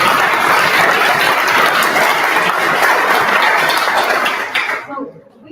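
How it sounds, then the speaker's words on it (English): An audience at a startup demo night in Lisbon applauds loudly and steadily for several seconds before the clapping abruptly stops. "A huge round of applause, guys."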